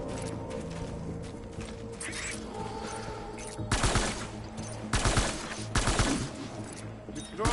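Bursts of automatic gunfire in the video game Death Stranding, loud and close, with several rapid volleys hammering out over a busy battle background and brief shouting voices.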